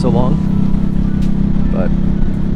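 A Harley-Davidson Nightster motorcycle engine idles steadily and loudly up close, a low continuous rumble that runs the whole time, with brief voice-like sounds breaking in over it.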